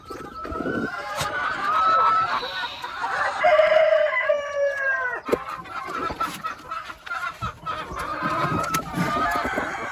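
Chickens cluck and squawk close by in a busy, overlapping chorus, with one bird letting out a longer drawn crow-like call partway through.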